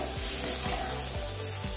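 Steady, close sizzling of mushrooms frying lightly in hot oil, with a few scraping stirs and a low rhythmic hum underneath.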